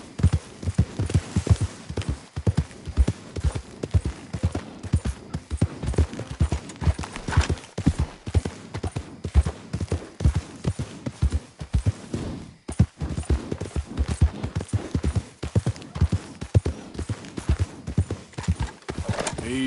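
Horse hooves clip-clop steadily and close as a rider travels on horseback in the Red Dead Redemption 2 video game, a continuous rhythmic trot running the whole time.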